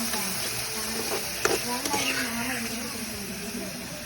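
Kara chutney for dosa sautéing in sesame oil, a steady close sizzle with a few clinks from stirring, while a voice talks over it.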